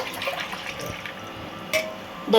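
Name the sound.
water being poured from a glass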